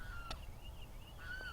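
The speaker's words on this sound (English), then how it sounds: "You could have heard the bird in the background" A faint, high bird call drifts in the distance over a quiet background, followed by a sharp close click near the end.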